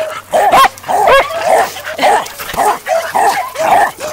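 Pocket beagles at play let out repeated sharp barks and yips in quick bursts, loud and close, with brief whimpering sounds between them.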